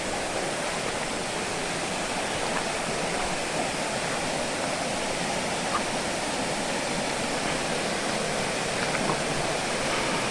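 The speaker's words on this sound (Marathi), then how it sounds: "बघा जिकडून तिकडून धबधबे पडत आहेत" A hidden waterfall at Panwal near Ratnagiri roars steadily, a dense, even rush of falling water with no voices.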